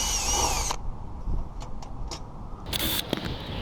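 A power drill backs screws out of a metal vent cover on a house being rodent-proofed, with a short whirring burst at the start and a second brief burst near the end, separated by quieter handling noise.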